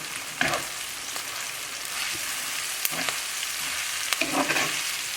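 Pasta with parsley and blanched broccolini is stirred in a hot pan, a steady close sizzle with several scraping and tapping strokes of the utensil, no one speaking.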